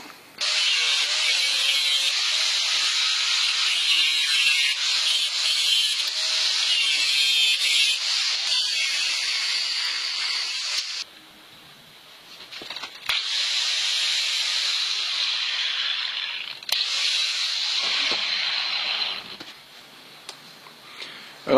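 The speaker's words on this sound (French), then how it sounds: "je coupe mes gaines de câble de vitesse à la disqueuse, pas à la pince" An angle grinder slices through bicycle gear cable housing on a cargo bike build, a loud steady hissing whine for about eleven seconds, a brief drop, then a second long cut, with no talk.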